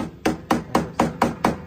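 Six sharp hammer taps on an electrical panel lock nut land at an even, steady rhythm, close and crisp, each strike ringing briefly before the next.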